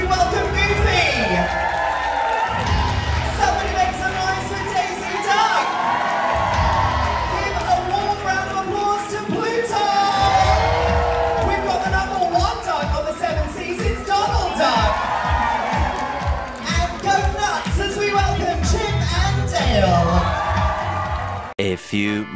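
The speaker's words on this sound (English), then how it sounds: "So keep that round of applause going as we welcome Goofy." A crowd aboard a Disney Dream cruise ship cheers, whoops and applauds as Goofy arrives, a loud continuous roar of shouting children and adults mixed with clapping throughout.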